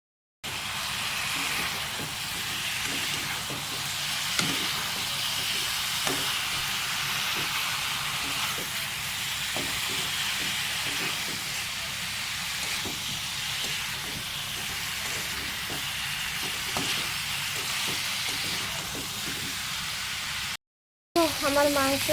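Beef liver bhuna hisses and sizzles steadily in a hot pan, a continuous bright frying noise with faint clicks of stirring, close and fairly loud, broken by a short gap near the end.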